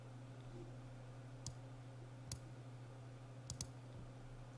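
A computer mouse gives a few faint, sharp clicks, singly and then as a quick double click, over a quiet room hum.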